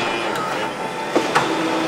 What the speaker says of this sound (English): it's getting ready to print and it's going to come out from the top